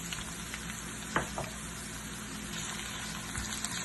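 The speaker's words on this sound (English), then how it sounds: "Now I'm going to add our bitter gourd slices." Bitter gourd slices frying in a pan with browned onion, a close, steady sizzle with a couple of brief stirring clinks partway through.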